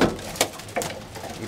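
Racing pigeons coo in a close, rhythmic series of soft throaty calls, one roughly every half second, with no talking.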